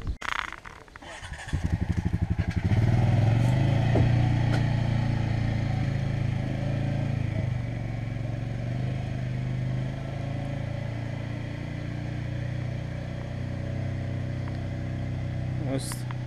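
A new Honda Fourtrax 350 4x4 ATV engine runs at a steady, fairly loud idle. A deep, even hum holds from the first few seconds to the end, after a short rattly start.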